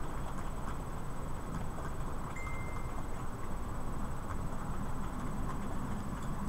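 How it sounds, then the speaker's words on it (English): An HST high speed train running at low speed on a model railway layout, a steady rumbling roll that stays constant throughout with no talk. "That HST is going a bit slow,"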